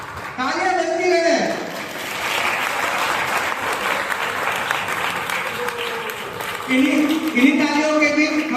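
Sustained audience applause at a youth drama festival, steady crowd clapping throughout, with a voice speaking over it at the start and end.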